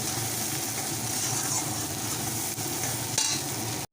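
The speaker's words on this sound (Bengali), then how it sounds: "আলুটা লাল লাল করে ভাজা হবে পেঁয়াজটা লাল লাল করে ভাজা হবে" Potatoes and onions fry in oil with salt and turmeric for a lote fish curry, a dense, steady sizzle with continuous stirring scrapes, close and loud throughout, with a brief clatter near the end.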